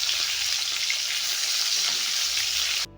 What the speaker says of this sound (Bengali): তো একটু উল্টিয়ে পাল্টিয়ে চিংড়ি মাছগুলোকে ভেজে নিলেই কিন্তু খুব কম সময়ের মধ্যে চিংড়ি মাছ কিন্তু ভাজা হয়ে যাবে।